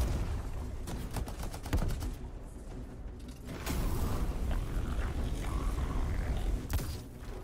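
Multi-mortar and railgun fire erupt in the sci-fi shooter Anthem, with rapid cracking bursts that give way to sustained rumbling blasts and mechanical whirs, loud and dense throughout.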